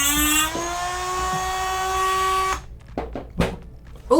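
A Dremel rotary tool cuts the ABS plastic shell of a robotic kitten, giving a high, steady whine that rises slightly in pitch for about two and a half seconds, then cuts out, followed by a few clicks and bumps.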